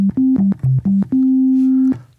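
Studiologic Sledge synthesizer with oscillator 1 on a 16-foot sine wave, playing a short melodic run of clean, pure tones: several brief notes, then one long held note that fades, loud and alone.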